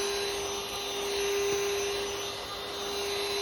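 A cordless vacuum cleaner runs steadily close up, a continuous whirring motor drone with a high-pitched whine and no talking.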